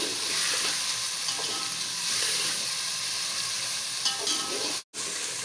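Finely chopped tomatoes sizzle in a pan alongside bitter gourd for a spicy curry, a steady close hiss of frying with faint stirring that cuts out abruptly for a moment near the end.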